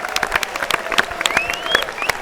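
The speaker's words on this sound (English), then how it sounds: "please give a big round of applause for David Gilmour." An audience at a David Gilmour Q&A at the BFI IMAX in London bursts into lively, close applause, with sharp individual claps and a few rising whistles cutting through.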